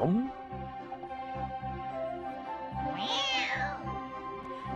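A cartoon cat meows in a rising, drawn-out cry over a repeating background music track, clear and prominent.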